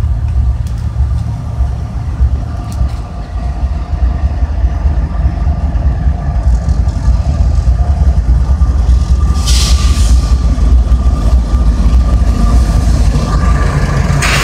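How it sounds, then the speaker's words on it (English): A freight train led by a GEVO locomotive rolls past loud and close, a heavy continuous rumble with a horn sounding in short blasts partway through. "Here comes a power move with the Gevo leader, apparently. Giving quite a horn show for NTD National Train Day."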